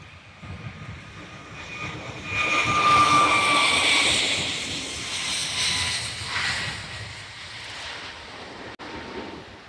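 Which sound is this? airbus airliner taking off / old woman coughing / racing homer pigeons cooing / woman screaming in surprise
airbus airliner taking off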